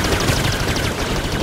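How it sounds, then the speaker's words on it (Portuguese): Rapid, dense gunfire from blasters in the video game Star Wars Jedi: Fallen Order, a loud continuous volley of repeated shots with no talk over it. "Tenho que me mover entre os tiros."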